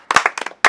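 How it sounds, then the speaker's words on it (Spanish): A small group at a Spanish basketball talk-show farewell dinner gives a brief burst of hand claps, a few quick close claps that stop, then start again. "venga, un aplauso."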